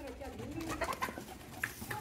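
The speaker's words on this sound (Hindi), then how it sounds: "माशाल्लाह कबूतर जो है ना ये काफ़ी सारे हैं, ज़बरदस्त।" A flock of pigeons coos softly at a yard where chickens are also kept, the low burbling calls mixed with murmured talk and faint background noise.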